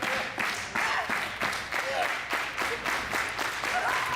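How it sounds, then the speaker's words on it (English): A wrestling crowd cheers and applauds for Faye Jackson in her match against Chris Dickinson, a steady wash of clapping with rhythmic pulses of cheering that swells and dips across the moment, with faint voices mixed in. "Crowd really getting behind Faye here."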